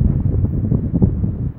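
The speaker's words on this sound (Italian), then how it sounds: "non sono riuscite a resistere questo vento fortissimo" Strong wind buffeting the microphone on a road between Piano di Sorrento and Positano after tree branches collapsed, a steady loud low roar with gusty fluctuations and no speech.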